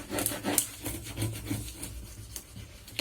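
Paper is rubbed flat onto a scrapbook album cover, giving soft, close, repeated swishing strokes in an irregular rhythm with no talking.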